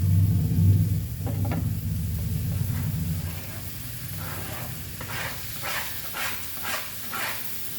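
Goan pork sausages sizzling in a hot pan, a steady close hiss with a louder rumbling burst at first, then softer frying broken by rhythmic scraping stir strokes.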